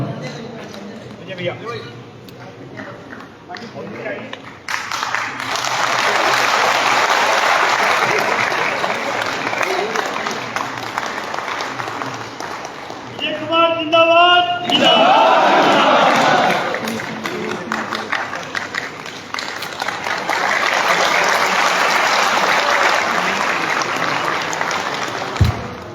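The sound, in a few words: audience applause welcoming a guest at an association convention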